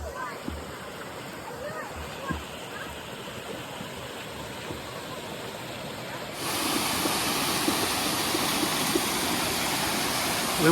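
A small waterfall on a nature walk gives off a steady rushing hiss that grows noticeably louder and fuller partway through as it comes closer.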